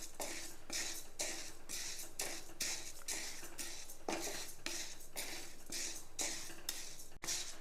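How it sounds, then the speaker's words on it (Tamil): Moong dal roasting over a low flame in a pan while being stirred continuously, producing steady rhythmic scraping and rattling strokes, roughly a dozen repeated sweeps, close and moderately loud with no talking. "கை விடாமல் வறுக்கணும், அதான் எல்லாம் ஒரே பக்கமாக வறுபடும்."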